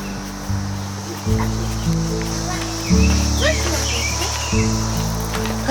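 Cicadas drone through a Maryland emergence as a steady shrill buzz in the background, under other insect chirps, low pulsing hums and occasional faint voices nearby.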